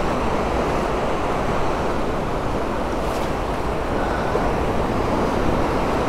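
Surf breaks on a beach in a steady broadband wash of rolling waves, loud and continuous, with wind noise mixed in and no talk.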